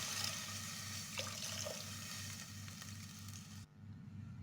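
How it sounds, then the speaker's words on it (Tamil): Water poured into mutton curry in a pressure cooker, a steady splashing pour over a faint sizzle that cuts off near the end, close and fairly quiet. "இப்போ தேவையான அளவுக்கு தண்ணி ஊற்றிக்கலாம்"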